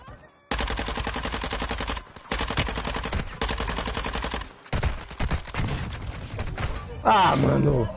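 Rapid video game gunfire in loud sustained bursts separated by brief pauses, ending in a denser chaotic stretch as a match is lost, with some voice mixed in.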